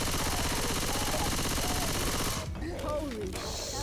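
Rapid continuous gunfire in Left 4 Dead 2 against a Tank, loud sustained bursts that cut off abruptly near the end, followed by brief scattered sounds and faint voices.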